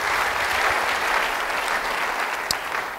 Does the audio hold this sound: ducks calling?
no